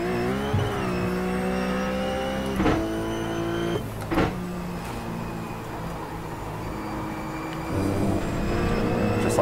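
In iRacing, the engine of a RUF C Spec race car at Lime Rock holds a steady, droning tone under throttle. Its pitch shifts a few times, and two short sharp clunks break through the constant sound.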